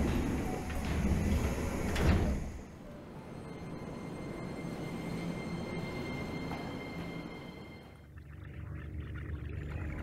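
A train in the video game 13 Sentinels: Aegis Rim rumbles and rattles in a long low rush, with a bright screech near the start that fades and a sudden drop in level toward the end.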